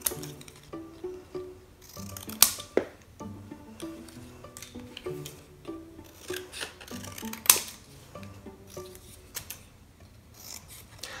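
Scissors snip repeatedly through stiff paper card, crisp close cuts with rustling and handling between strokes, no talking.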